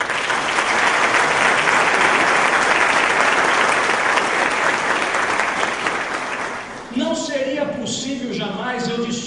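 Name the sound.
audience applause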